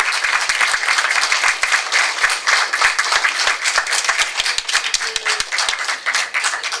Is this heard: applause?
yes